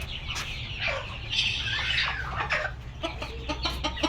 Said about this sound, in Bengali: এখানে আছে ডিমের মুরগি